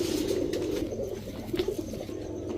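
A female Mili racer pigeon coos in a steady, close, throaty murmur that swells near the start and again in short pulses later, with no voices over it.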